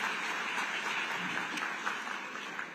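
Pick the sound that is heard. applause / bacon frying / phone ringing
applause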